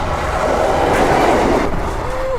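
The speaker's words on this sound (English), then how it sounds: "You ever been that close to a train going like that?" A train rushes past very close, a loud steady roar with rumbling wheels and a brief squeal near the end.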